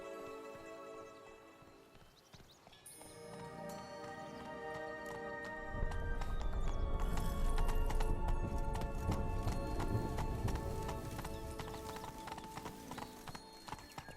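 Geralt's horse Roach in The Witcher 3 breaks from music-backed quiet into a loud galloping run, pounding hooves drumming rhythmically for the second half amid orchestral music.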